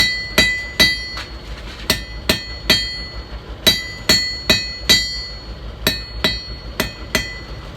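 Cross peen hammer striking hot steel on an anvil while forging a nail header, a close series of sharp ringing metallic blows in an uneven rhythm, about fifteen strikes with no talking.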